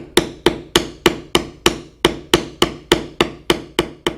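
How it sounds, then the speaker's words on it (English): A mallet strikes a textured beveling tool on leather during carving, fourteen sharp, close knocks in a steady rhythm about three per second, with nothing else heard. "now we will continue beveling outside of all the cuts that are next to the background"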